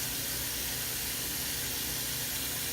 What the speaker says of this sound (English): And now I'm washing my hands to make sure you're all clean